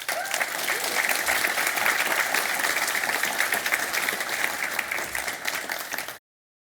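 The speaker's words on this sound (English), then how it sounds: "Another round of applause for Nikolai's." Sustained applause from a conference audience after a talk, a dense wash of many hands clapping that stays steady for about six seconds before stopping abruptly.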